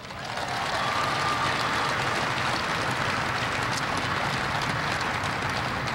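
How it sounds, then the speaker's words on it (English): Sustained applause from a large crowd at the Boeing Everett production facility, dense and steady clapping that rises quickly and continues at full strength. "Give them a big round of applause."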